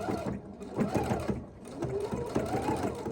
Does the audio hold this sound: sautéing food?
no